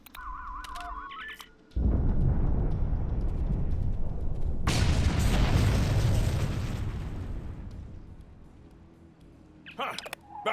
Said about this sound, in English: The bombs are primed to blow.